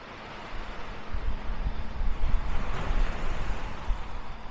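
Ocean waves heard from a hotel balcony in an Australian seaside town known for oysters, a steady broadband wash of surf with slow swells and some wind noise, moderately loud and with no voices.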